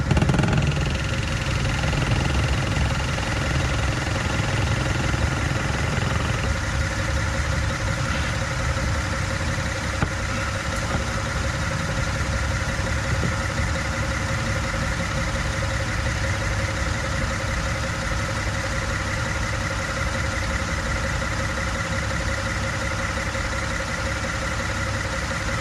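A 2016 Ford F150 with the 2.7 engine idling steadily while transmission fluid is pumped in, a loud, continuous, even drone close by with a faint hum throughout.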